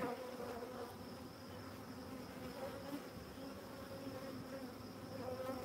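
A colony of honeybees buzzes at an open beehive in a steady, dense hum that runs the whole time, close and even in level with no voices.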